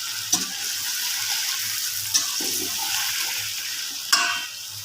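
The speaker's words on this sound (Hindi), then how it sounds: "यहीं पर जब गोश्त की अच्छे से भुनाई हो रही है" Chicken frying with black pepper in a pan, a steady sizzle with a few sharp clinks of a spoon against the pan and soft stirring, close and without talk.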